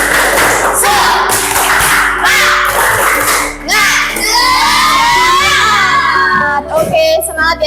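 Schoolchildren in a classroom shout a rhythmic clapping chant to close a lesson, loud and close, with excited young voices and handclaps throughout.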